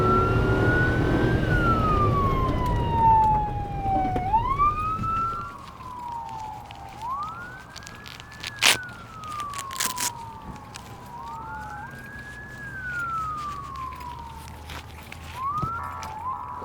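An ambulance siren wails in long rising and falling sweeps as the ambulance arrives at a massive house fire in Nye County, Nevada, loud and close. A heavy engine rumbles under the first seconds and sharp bangs cut in.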